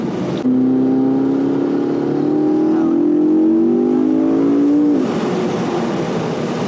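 Tuned 2012 McLaren MP4-12C with downpipes and intake mods accelerating while driving, a steady rising engine drone climbing in pitch for several seconds before easing off near the end.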